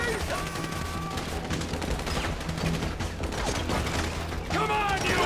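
Sniper gunfire from an overpass during a heist shootout in the video game GTA V, heard as continuous dense game combat noise with mechanical clatter and bursts of firing, loud and steady throughout.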